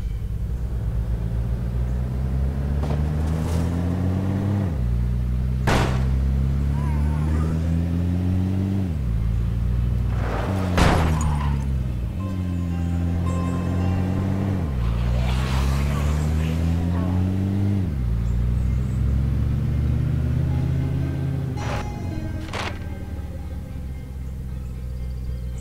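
A car engine in the video game State of Decay revs up steadily, then drops in pitch at each gear change, repeating the climb through several shifts over a continuous close, loud drone.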